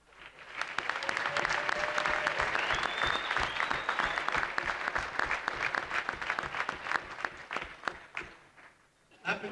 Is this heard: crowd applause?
yes